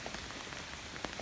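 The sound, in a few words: heavy rain falling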